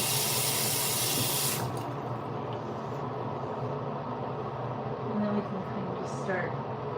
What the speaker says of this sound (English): Let's rinse our brush out first though.